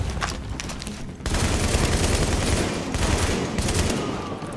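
Sustained automatic gunfire in The Division, a dense roar of rapid shots with a brief dip before the firing swells again and carries steadily to the end.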